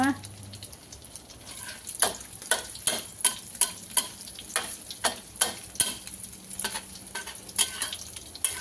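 An omelette with chive leaves is frying in a pan, with a faint sizzle under repeated scraping and stirring clicks from a utensil, at close range.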